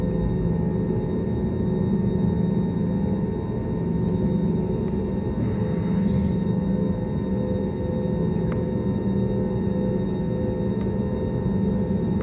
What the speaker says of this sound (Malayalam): അങ്ങനെ എൻ്റെ ഫ്ലൈറ്റ് റൺവേയിലേക്ക് കടന്നു നിൽക്കുന്ന സീനാണ് ഈ കാണുന്നത്.